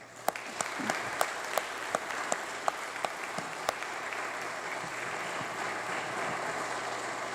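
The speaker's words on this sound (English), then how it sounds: "if you would please give everyone in the audience a round of applause" An audience at a Yale Air Force ROTC ceremony gives a sustained round of applause. A steady roar of many hands is punctuated by a few sharper, nearby claps early on, and the applause continues evenly to the end.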